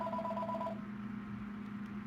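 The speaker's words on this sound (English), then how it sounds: "We got a phone call?" Telephone dial and ring tones heard during a live Halloween call-in radio show, a steady two-tone signal with a brighter pair of tones dropping out partway, continuous and fairly loud with no talk.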